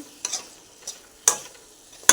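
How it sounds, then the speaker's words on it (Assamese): Potatoes and tomatoes fry in a pan in a quiet sizzle, broken by four sharp, spaced clinks of a utensil stirring against the metal. "প্ৰথমতে আলু আৰু বিলাহীখিনি ভাজি লৈছে"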